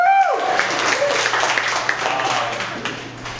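Applause from a conference audience at a front-end development talk bursts in over a fading voice, then runs dense and lively before gradually thinning out.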